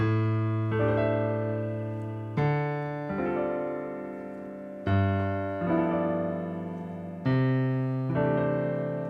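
Sustained piano chords built from stacked fourths play alone, each struck and left to ring for one to two seconds, about six in sequence.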